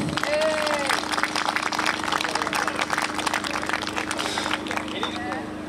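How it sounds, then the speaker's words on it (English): Audience at an outdoor history fayre applauds the actors after a historical performance: a dense, sustained round of clapping from a sizeable crowd, loud and close, with voices mixed in. "can we just give a round of applause to the actors?"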